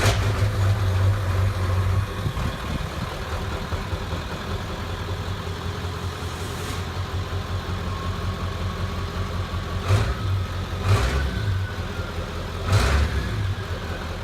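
A 1996 Ford F350 with a 7.3 diesel runs on a downpipe-only exhaust, a steady, loud, low idle that holds throughout, with a few brief revs swelling near the middle and end.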